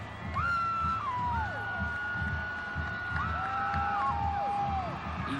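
A crowd in the stands at a high school state 4A football title game, cheering and whooping in sustained waves, with long rising shouts carrying over the steady roar.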